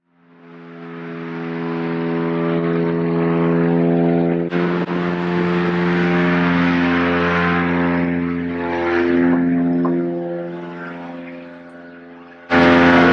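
Helicopter flying overhead, a loud sustained engine and rotor drone that rises, holds steady for several seconds, dips slightly, then cuts to a sharper burst of noise near the end.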